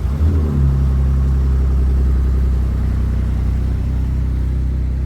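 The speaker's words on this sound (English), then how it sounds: "I'm going to start this car. When it does a cold start, it is so cool." A Ford Raptor pickup truck cold-starts in Lesotho, firing into a loud, deep steady rumble that settles into a high idle, heard from inside the cab with no talking.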